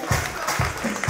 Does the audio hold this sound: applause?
yes